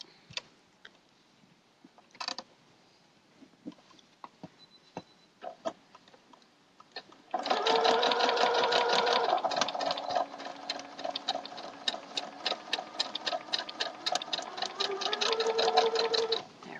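Sewing machine stitching binding onto a log cabin quilt: after scattered faint handling clicks, a close, steady mechanical whir with rapid needle ticking runs continuously for about nine seconds, alone without talk.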